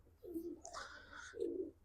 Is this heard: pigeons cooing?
yes